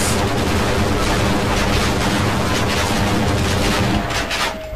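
Sustained loud gunfire in the Half-Life: Blue Shift video game, dense overlapping shots and impacts hitting the player for about four seconds before easing off, with no talk over it.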